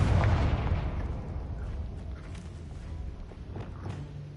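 A Confringo explosive spell goes off in the Hogwarts Legacy game: a heavy rumbling blast opens and slowly rolls away, followed by a few faint pops and thuds.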